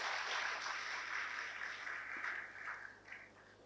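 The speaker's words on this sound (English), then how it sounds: "They deserve a rich round of applause for the graceful presentation." Applause for a dance group after its performance at a formal event, heard as a steady, moderately loud wash of clapping from an audience that slowly thins and fades toward the end.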